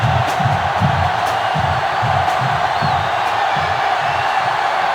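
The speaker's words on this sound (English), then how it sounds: "The sellout crowd is really making a difference now as these guys can't even call the play" A loud sellout crowd roars steadily at a football game, a dense wall of cheering and shouting with a rhythmic low pulse running under it throughout.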